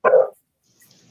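A house dog lets out a single sharp bark at close range, followed by near silence.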